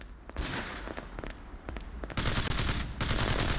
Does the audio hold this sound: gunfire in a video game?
yes